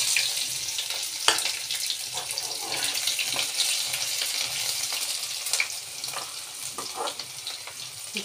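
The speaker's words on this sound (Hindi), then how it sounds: "अब मैं इसमें डालूँगी लहसुन अदरक का पेस्ट।" Garlic-ginger paste frying in a pan on a low gas flame: a steady, close crackling sizzle with scattered sharper pops, holding at an even level throughout.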